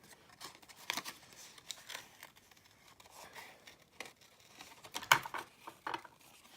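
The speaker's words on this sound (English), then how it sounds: "especially with my little snips, to just quickly fussy cut around her" Small craft snips trim closely around a stamped paper image, quiet crisp snipping and paper rustle in irregular little bursts, faint and close throughout.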